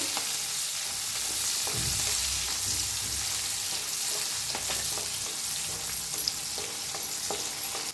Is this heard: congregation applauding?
no